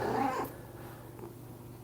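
A young female cat gives a single short, close meow at the start, followed by quiet low background hum.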